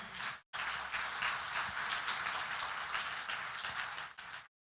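A church congregation applauding at a family congress service, a steady broad wash of clapping held for about four seconds at moderate volume, with a brief gap near the start and a fade at the end.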